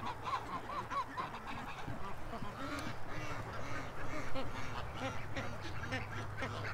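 A young female goose and other waterfowl honk and quack at a middle distance in a repeated, chattering run, layered over steady outdoor background noise, with a voice faintly present.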